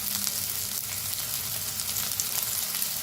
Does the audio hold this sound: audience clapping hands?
no